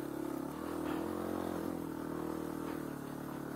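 A KTM 500 EXC dirt bike's single-cylinder engine runs steadily close by on single track, holding a loud, even drone with a slight rise near the middle and no talk over it.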